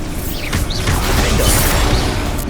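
A Bombarda blasting spell explodes in Hogwarts Legacy during a spell-casting duel, a loud, dense burst with swooshing sweeps that fills the whole stretch without a break.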